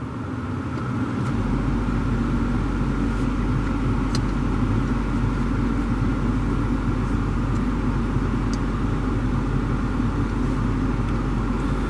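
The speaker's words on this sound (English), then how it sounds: "the air is definitely blowing harder even though the car's off" Air conditioning blower of a 150k-mile Lexus GS430 running on high with the engine off, a steady broadband whoosh that spins up in the first second and then holds a constant level, with faint low hum and a few light ticks.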